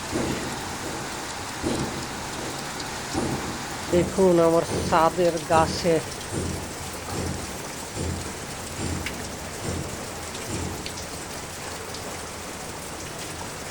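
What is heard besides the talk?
heavy morning rain on a rooftop garden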